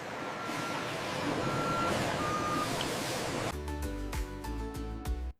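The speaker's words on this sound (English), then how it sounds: "Trucks are loaded to transport millions of bars daily." A truck being loaded for transport at a chocolate bar distribution site, with steady broadband noise giving way to a run of evenly spaced reversing beeps near the end, moderately loud and with no voices.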